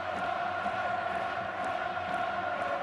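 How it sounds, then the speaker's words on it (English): A stadium crowd at an AFC Champions League match between Urawa Red Diamonds and Al Hilal gives off a steady, loud roar with rhythmic chanting and periodic claps or drum hits throughout. "And listen to this crowd"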